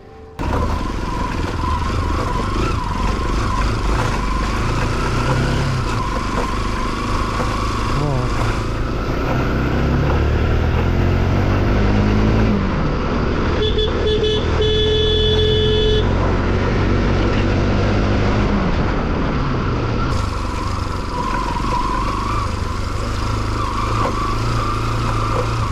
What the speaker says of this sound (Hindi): मैं पूरी स्पीड में बाइक भगा रहा हूँ, हाँ, बुम बुम बुम करके